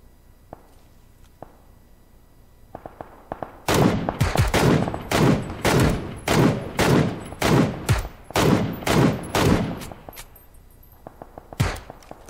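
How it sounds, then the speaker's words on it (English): A sniper rifle in the video game PUBG fires a rapid, evenly spaced string of loud, close shots for about six seconds, with a few scattered shots before and after. "That's that beast sniper rifle"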